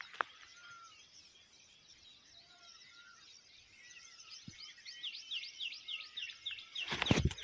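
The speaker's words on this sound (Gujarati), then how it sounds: "વધારે પડતી ચકલીઓ બોલે છે" Sparrows chirp near a farm beside forest in Gir, with sparse high calls at first that become denser, overlapping twittering toward the end, while a brief close knock or rustle sounds at the finish.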